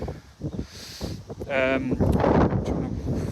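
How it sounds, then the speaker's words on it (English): Wind gusts rumble and buffet a microphone outdoors, with broadband blustery noise building in the second half while people talk underneath. "so windy"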